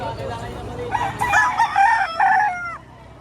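A rooster crows at a busy chicken market in Batangas, one long drawn-out call rising and falling over steady crowd murmur and background clucking, fairly close.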